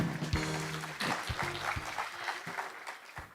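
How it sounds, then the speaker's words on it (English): An audience at a summit opening ceremony in Daegu applauds with a steady wash of clapping that fades gradually, while a voice speaks over it. "Please give her another round of applause."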